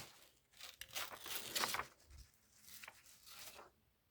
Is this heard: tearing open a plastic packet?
yes